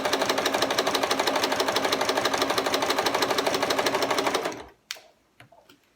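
A sewing machine back-stitches a waistband seam, its needle hammering in a fast, steady, even rhythm for several seconds before stopping abruptly, followed by a few faint clicks and handling sounds.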